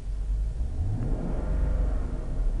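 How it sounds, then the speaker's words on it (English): A car engine idling at about 670 RPM rises into a rev, a steady close rumble that climbs in pitch and holds loud throughout. "I can rev the engine."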